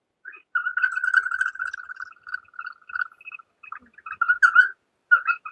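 A bamboo instrument plays a high, reedy piping tone in short warbling phrases with brief gaps, like a bird calling, fairly close and clear with no voices.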